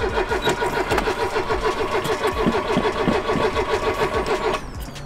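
A Lada Zhiguli engine cranks and catches, then runs with a steady rough mid-pitched idle, close by, with no talk.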